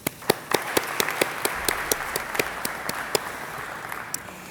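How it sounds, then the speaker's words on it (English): Scattered clapping for graduates at a virtual university hooding ceremony: distinct, separate claps in an irregular rhythm, a handful of hands rather than a full crowd, close and fairly crisp. "please offer a warm round of applause"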